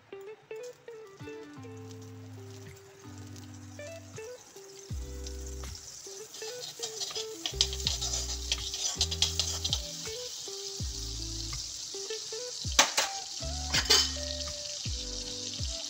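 Butter sizzles in a hot kadai before brinjal slices go in for a cheesy chicken brinjal dish. A faint hiss with scattered pops runs beneath prominent background music and grows louder toward the end.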